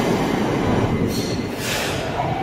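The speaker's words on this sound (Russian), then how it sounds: "И вот он подъезжает, наш состав." A metro train pulls into Avtovo station on the underground, a loud, steady rumble of railcars with brief wheel squeals and hiss, heard up close on the platform.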